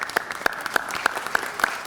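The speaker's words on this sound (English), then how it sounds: "Please give her a round of applause for that." Audience applause at a city council meeting, heard as a short, sparse run of about six evenly spaced, crisp claps, moderately loud and without talk.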